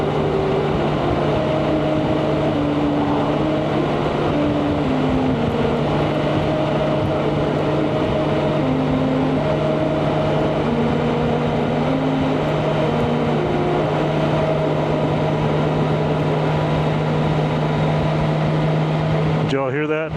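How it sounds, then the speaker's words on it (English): Motorcycle riding over a grooved singing highway near Chama, New Mexico, the road surface producing a steady sustained musical hum with shifting tonal steps under the constant engine and wind drone, ending abruptly. "Let's see if we can hear the singing highway here."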